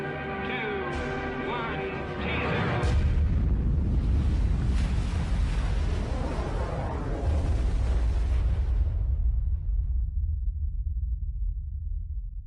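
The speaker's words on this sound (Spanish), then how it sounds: "La potencia de la explosión es similar a la de 10 millones de toneladas de TNT" A thermonuclear bomb test, rated at ten megatons, sets off a deep, loud rumbling roar that swells and rolls on for several seconds, then fades to a low drone as brief tonal sounds die away early on.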